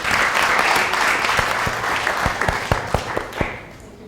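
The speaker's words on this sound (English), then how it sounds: "I want you to clap for yourselves." Audience applause at a leadership panel, a wash of clapping with sharper individual claps standing out near the end, fading gradually as it winds down.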